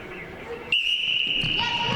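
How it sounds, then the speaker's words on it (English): A referee's whistle opens a university netball match, a sharp sustained blast that holds steadily before a second, lower tone joins it, over quieter court noise and faint voices. "And the whistle blows for the start of the game."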